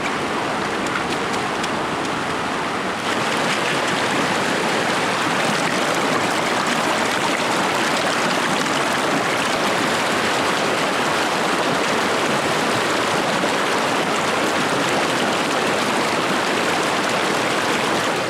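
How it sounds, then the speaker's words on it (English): Water rushes steadily down a gold sluice box outdoors, a loud, dense, continuous wash with no talk, rising slightly in volume after the first few seconds. "Three buckets completed. Let's run them down the sluice."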